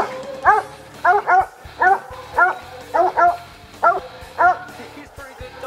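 A hunting dog barks near a downed mountain lion in the Colorado mountains, eight or nine loud, close barks in uneven bursts with short gaps, some yipping, no talking.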